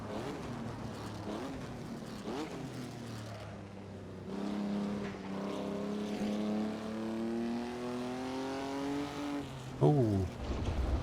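Alfa Romeo 158 Alfetta, a 350-horsepower 1950 F1 race car in Assetto Corsa at Silverstone airfield, revving through rising gear pulls with a rasping engine note, then a sharp burst near the end.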